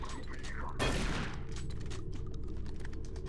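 A shotgun blast firing a spread of pellets in the video game Doom 3 cracks out once, sharp and loud, with a short rumbling tail under dense game noise.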